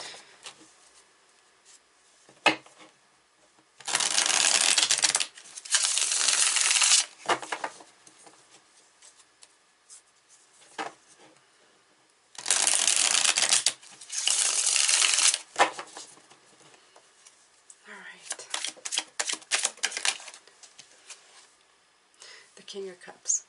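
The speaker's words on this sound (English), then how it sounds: "I'm going to take some cards from the Healing Light Tarot." Tarot cards from a Healing Light deck are shuffled in several loud bursts of rapid riffling and slapping, separated by quieter stretches of card handling and taps.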